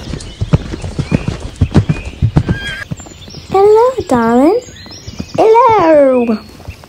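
Horse's hooves clip-clopping as it is led out of a stable paddock, several close crisp hoof strikes, followed by two loud whinnies.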